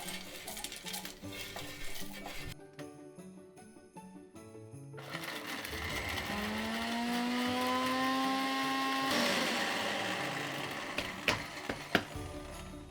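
An electric spice grinder whirs steadily for a few seconds, grinding freshly toasted five-spice into a dry powder, its motor pitch rising slightly before giving way to rattling and clinking.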